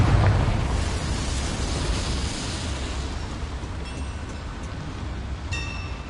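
A spell blast in the Hogwarts Legacy video game, a loud booming explosion that roars and rumbles continuously for several seconds before settling into a steady low rush, with a faint chime near the end.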